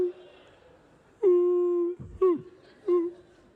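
A comedian's voice imitates a gorilla crying at night inside a house, producing a few drawn-out whimpering wails with short breaks between them, up close and fairly loud.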